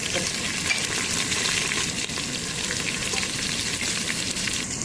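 Sliced big onions and curry leaves hit hot oil in a red rice dish, giving a loud continuous close sizzle with stirring scrapes throughout.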